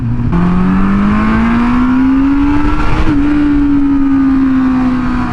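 A Suzuki GSX400F motorcycle engine revs loud and close as the bike accelerates, its tone climbing steadily for about three seconds, dipping briefly at a gear change, then holding a high strained whine.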